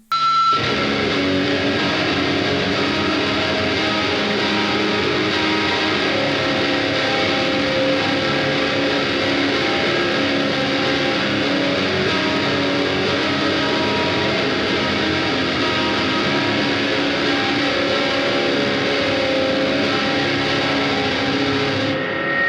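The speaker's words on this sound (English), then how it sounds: "I'll start off with the main rhythm I did on my SG that starts off like this" A distorted electric guitar, a Gibson SG, plays a steady, continuous rhythm riff, loud and dense throughout with no voices.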